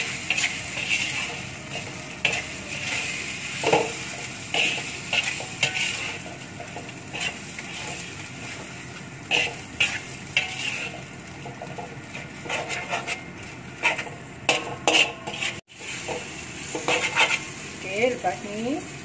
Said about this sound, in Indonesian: Tambahkan garam sedikit. Okey, gaulkan dengan perlahan.